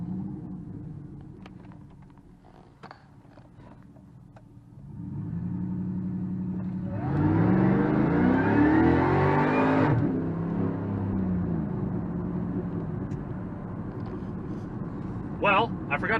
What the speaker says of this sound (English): Give her a quick little launch here.